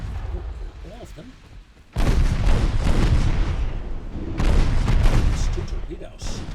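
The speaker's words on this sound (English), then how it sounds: "I'm just gonna launch. Torpedoes. Oh, all of them." Torpedoes launch from a warship in the naval battle game Ultimate Admiral Dreadnoughts, producing two heavy, booming bursts a couple of seconds apart that rise sharply from a low rumble and linger loudly.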